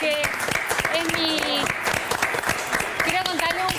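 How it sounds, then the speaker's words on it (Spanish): A studio audience on a Sunday television variety show breaks into sustained applause, a dense wash of clapping, while a host speaks over it. "démosle un aplauso a la Kelly Wulfa, nuestra doctora"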